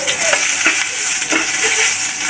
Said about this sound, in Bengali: এখন আগে আমি শুকনো মরিচগুলো ভেজে নেব।